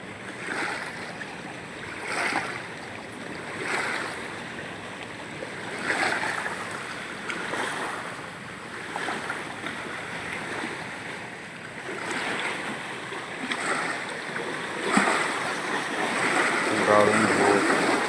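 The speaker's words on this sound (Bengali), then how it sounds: "সুন্দর ঢেউ আসছে।" Sea waves roll in toward a fishing spot, surging and washing in repeated swells at a steady interval, with a person speaking over the surf.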